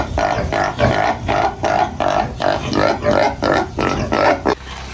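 A native-breed pig grunts repeatedly in a steady, rhythmic series of rough, close snorts, with faint background noise.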